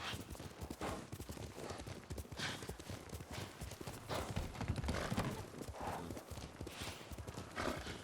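Horse hooves clip-clop in a steady walking rhythm in the video game Ghost of Tsushima, with occasional snorts and faint ambient game sounds underneath.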